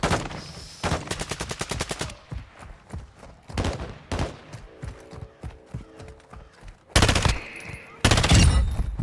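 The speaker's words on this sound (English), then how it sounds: "Whoa, I've just been hit with a sniper" Loud bursts of rapid automatic gunfire alternate with single sharp shots and quieter gaps during a Call of Duty DMZ firefight, with some shots close and harsh; there is no spoken voice.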